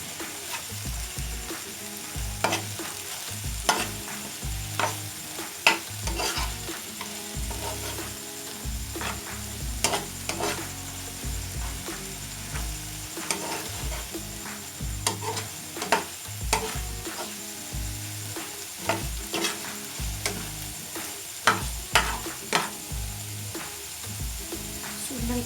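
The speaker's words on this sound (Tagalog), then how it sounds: "Haluin na po natin." Tuna pasta sauce sizzling in a frying pan while a spoon stirs it steadily, with soft scrapes and clinks over a constant close frying hiss throughout.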